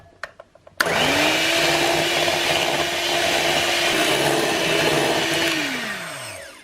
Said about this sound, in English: I'm going to start by whipping up 1/3 of a cup of cream.